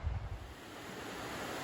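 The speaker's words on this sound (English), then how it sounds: "It got so much louder as we got here closer to the water, where it's kind of a little rapids, I guess." Water rushes over small river rapids in a steady, close, full-bodied roar, with a little wind buffeting the microphone at the start and no voices.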